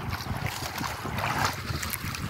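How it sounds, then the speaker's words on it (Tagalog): A small fishing boat slaps and knocks against choppy monsoon waves in bad weather, with rushing water and wind noise in a steady, uneven churn. "Matalon-talon yung bangka."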